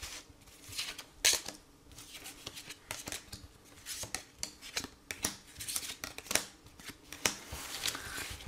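Tarot cards being shuffled for a card reading, a string of soft, close riffling and flicking bursts at an irregular pace, with no talk.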